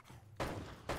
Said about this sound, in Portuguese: Tô dando poucos tiros aqui.